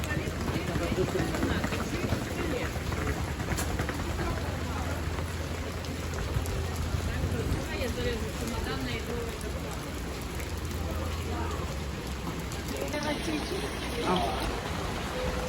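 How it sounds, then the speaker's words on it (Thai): Steady rain patters and hisses on surfaces throughout, a constant wash of sound with voices talking faintly underneath, in Finland. "ฝนตกนะคะ"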